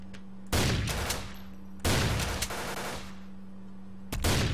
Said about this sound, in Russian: Он по мне стреляет.